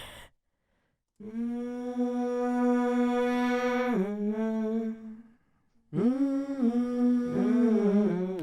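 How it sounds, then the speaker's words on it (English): One voice hummed into a microphone and layered three times, held in smooth harmony: a long sustained phrase, a brief pause, then another layered hum that slides between pitches. "I just hummed into the mic and I did that on top of itself 3 times"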